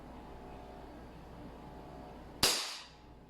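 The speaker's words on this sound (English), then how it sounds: "Okay, I'm going to shoot it." A single sharp pistol shot cracks out at an outdoor range while a red dot optic is being zeroed, a loud sudden report after a quiet stretch, followed by a short decaying echo.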